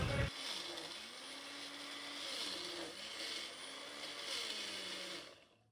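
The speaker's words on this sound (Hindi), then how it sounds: "आवाज़ है देखो मिक्सर ग्राइंडर में" A mixer grinder whirs loudly and steadily nearby, its motor pitch rising and falling slightly as it churns for several seconds before winding down.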